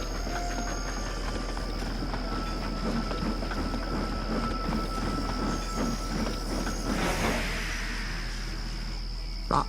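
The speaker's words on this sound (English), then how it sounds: "That sounds like an engine," A railway engine rumbles and clanks along in a steady rhythm for most of the stretch, with a faint high whine above. Near the end it swells into a brief hiss before fading.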